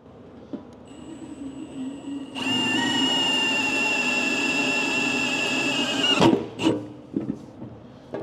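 A power drill bores holes during a remote control crane installation, running as one loud continuous whine for about four seconds, then cutting off into scattered clunks and handling noises.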